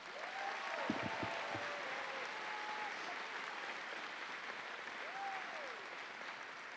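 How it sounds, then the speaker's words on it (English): Steady applause from a large audience fills a commencement ceremony for a College of Business graduating class, a continuous crowd of clapping with a few faint whistles rising above it, sustained at an even level throughout. "a round of applause"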